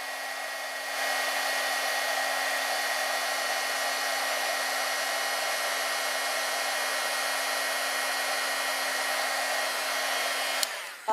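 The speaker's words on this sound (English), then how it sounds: "bear with me while I turn the heat gun on" A heat gun blows steadily for about ten seconds, warming silver foil paper in a craft setting: a continuous loud airy roar with a steady whine, starting and cutting off abruptly at the end, with no talking.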